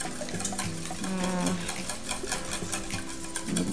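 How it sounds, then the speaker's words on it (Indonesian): Eggs whisked together in a bowl for a Spanish omelette, a fast, continuous rattling patter kept up for several seconds, close and fairly quiet, with a faint hum underneath and no speech. "Kita kocok-kocok sampai tercampur semua."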